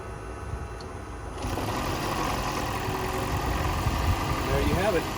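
A Toyota Prius engine starts after a spark plug change and settles into a low, steady idle, recorded from nearby with faint background noise.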